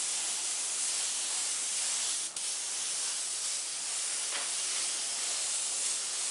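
Airbrush spraying a black mist coat of paint for beveled-edge flames, a continuous close, loud hiss with one brief dip partway through.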